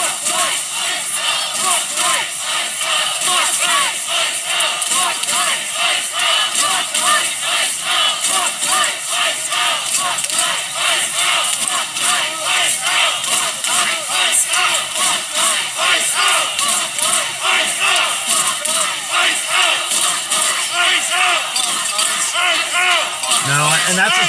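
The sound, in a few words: protest crowd shouting in Minneapolis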